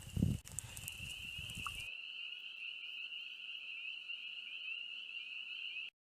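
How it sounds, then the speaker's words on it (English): A single frog trills in a steady, high continuous call in early spring for several seconds after a brief burst of rustling, fairly faint against a quiet background. "that's what we hear singing all around us. This is the first frog of the year."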